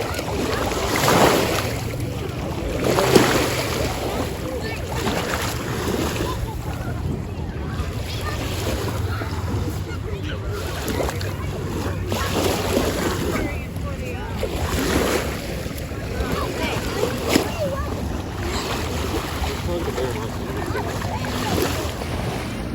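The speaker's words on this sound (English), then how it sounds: "the sounds of the waves crashing up against the shore" Lake waves washing against the shore near Kelowna, a steady rolling wash with gusting wind buffeting the microphone, fairly quiet and continuous with surges every few seconds.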